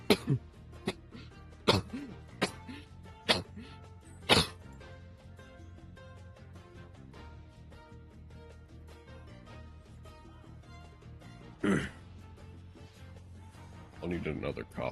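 A person coughing and clearing their throat during a Yu-Gi-Oh! Master Duel online card game session, several sharp close coughs in the first few seconds and more near the end, with quiet background game music.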